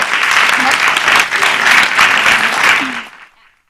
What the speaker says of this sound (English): let's give them a round of applause and invite them up